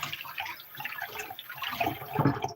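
Pasta dropping into a pot of boiling water, bubbling and splashing liquid with a few soft knocks, close and moderately quiet, no talking.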